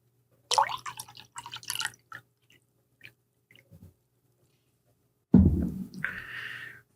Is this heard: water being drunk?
yes